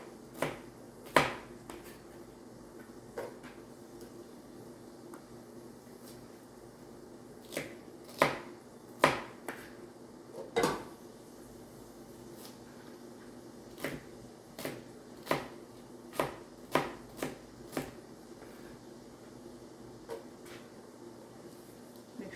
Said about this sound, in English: some of these ends of the celery are a little large, so I'm going to cut those in half lengthwise and then get them cut